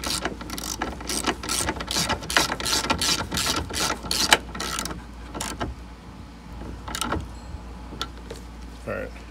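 A ratchet tightens a seatbelt bolt during a seatbelt replacement on a 1989-97 Mazda Miata MX-5. A burst of rapid clicking is followed by slower, scattered clicks, close up and clear.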